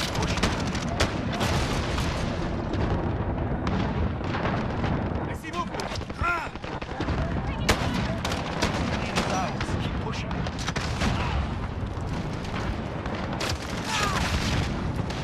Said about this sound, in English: I didn't even realize you could shoot rockets out of this shit